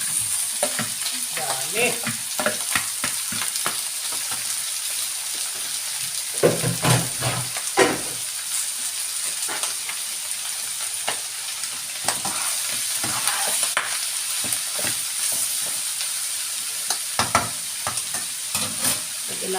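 Pork intestines for dinuguan frying in a pan, a loud continuous sizzle with bursts of crackling and scraping stirs, a brief spoken word near the start.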